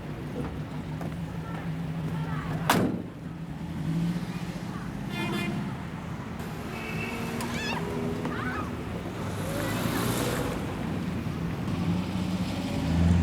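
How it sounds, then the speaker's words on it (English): A van engine runs and revs while the vehicle is turned around, a steady low motor drone with a sharp knock partway through, under occasional voices. "I'm going to turn the van around."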